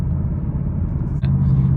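A 2022 Ford Mustang GT's engine gives a steady, deep rumble heard from inside the cabin, a constant low drone with no speech.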